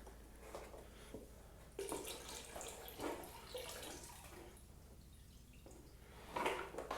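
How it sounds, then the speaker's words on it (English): Water is tipped out of the hopper of a Wagner Control Pro 150 airless paint sprayer, a faint pouring and dripping trickle with a few louder splashes, quiet and close. "So now we just need to tip this water back out."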